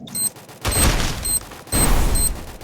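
Bursts of Free Fire gunfire in a video game: two loud, sustained volleys of rapid shots with a brief sharp burst at the start, close and dominant, with no talking over them.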